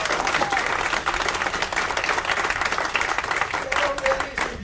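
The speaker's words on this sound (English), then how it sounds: "Everyone, give a round of applause for John Gazmen." An audience at a magic theatre's ensemble show applauds a magician taking the stage, sustained clapping with some crowd cheering, steady and full throughout with faint voices mixed in.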